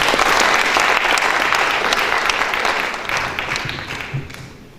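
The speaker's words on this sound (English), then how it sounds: "A round of applause for him as well." Steady applause from an audience at a national student economics debate, loud and continuous, slowly tapering off toward the end.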